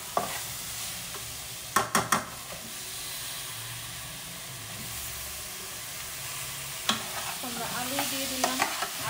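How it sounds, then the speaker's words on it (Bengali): Chicken and potato pieces fry in spiced oil in a pan, a steady close sizzle with occasional stirring scrapes and clanks of a utensil, no talk. "আলুটাও এখন মশলার সাথে ভাজা ভাজা হোক"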